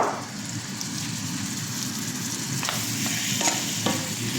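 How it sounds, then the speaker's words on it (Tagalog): Pork tenderloin sautés in a pan with onion, giving a loud, continuous, close-up sizzle with faint spatula taps now and then. "Igisa lang natin siya ng konti."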